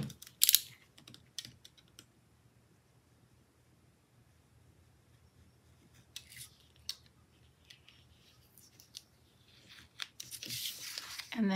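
Small scissors trimming a planner sticker, a few quiet crisp snips and paper rustles scattered across a long, mostly hushed stretch.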